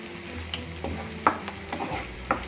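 Green chili, ginger and cashew paste frying with spices in hot oil, a steady close sizzle broken by several sharp stirring scrapes and clinks of a spoon against the pan, no voices.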